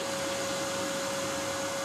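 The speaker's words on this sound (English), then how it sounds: "one of the most popular attractions focuses on this laser printer" A laser printer machine running in a maker space, giving a steady, loud whirring hiss with one constant whine throughout and no voices.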